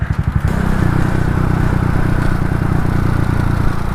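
A small motorcycle engine revs and putters steadily up close, a buzzy mid-pitched drone with rattly clatter, continuous throughout with no talking.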